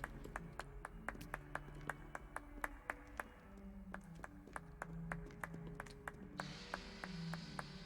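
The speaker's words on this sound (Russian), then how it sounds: "Кто хлопает?" Steady rhythmic hand clapping in the video game Hogwarts Legacy, about two crisp claps per second over quiet game music, continuing through the whole stretch.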